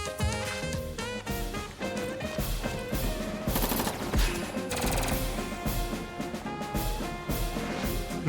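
Medium tank gunfire in the Advance Wars game: rapid bursts of shots rattling over busy, layered game music, loud and continuous throughout.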